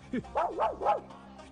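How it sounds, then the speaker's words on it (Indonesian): A dog barks at a newcomer in a short series of three or four close, yelping barks with voices under and around them. "Tapi anjing milik Gotham sempat menggonggong melihat Nanda"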